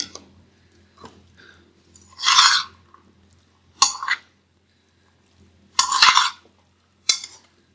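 A spoon mixes yogurt into chickpea chaat in a bowl, making short, separate bursts of scraping and clinking with quiet pauses between them and no voices.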